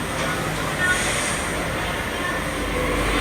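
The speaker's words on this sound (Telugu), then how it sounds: "ఇక్కడే మనకి ట్రైన్ అనేది రావడం జరుగుతుంది." A Delhi metro train rolls into New Delhi metro station with a steady, loud rumble and roar of the wheels and carriages, the noise holding constant across the whole stretch.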